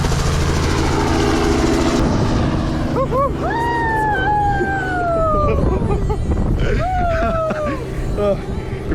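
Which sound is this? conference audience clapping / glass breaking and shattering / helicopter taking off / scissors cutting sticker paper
helicopter taking off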